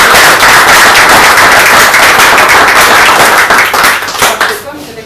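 Loud, dense applause from a large crowd, sustained clapping that thins out and fades toward the end.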